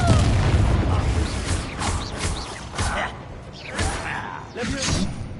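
A Confringo blasting curse in a wizard video game sets off several booming blasts and whooshing bursts, mixed with low rumble and spoken voice.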